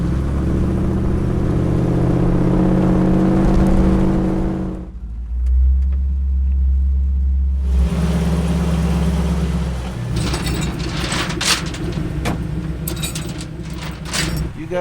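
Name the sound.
full-size four-door diesel truck driving off road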